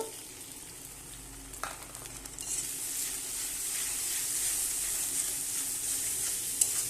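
A paste of ginger-garlic, dry chilli powder, coriander-cumin, turmeric and salt goes into a hot pan, and a steady sizzle builds and grows louder, with faint scraping and one sharp clink near the end.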